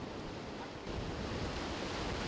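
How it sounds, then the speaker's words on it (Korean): Rough sea waves surge at a fishing spot, a dense continuous roar of surf mixed with wind buffeting the microphone, loud and close, swelling slightly partway through with no voices. "낚시를 하러 들어가려는데 생각보다 파도가 정말 심했습니다"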